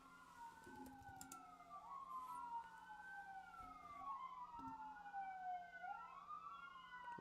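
Police or emergency sirens wail outside in long rising and falling sweeps. They are steady and moderately distant, with faint road traffic underneath and no voices.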